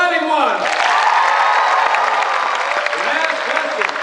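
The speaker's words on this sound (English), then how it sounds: "Clap if you want the exciting one." A graduation audience at a University of Phoenix campus ceremony in Nashville claps and cheers at full volume, a dense, sustained roar of applause with shouts and whoops running steadily throughout.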